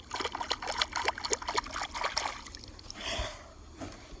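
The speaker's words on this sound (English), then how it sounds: "and he splashes around" A dinosaur splashes around in water after getting up, with a series of short wet slaps and trickling splashes, moderately close, then a softer sloshing wash toward the end.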